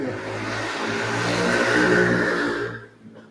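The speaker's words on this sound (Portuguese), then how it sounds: "Passou uma moto aí" An engine roars past nearby, rising and holding steady before fading away at the end, like a motorbike going by.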